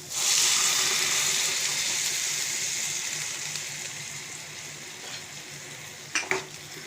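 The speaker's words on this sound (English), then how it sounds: "now we'll add some water and coconut milk" Water poured into a hot pan of pumpkin, peanut and coconut curry makes a loud hissing sizzle that slowly fades, followed by a couple of brief clinks near the end, with no talking.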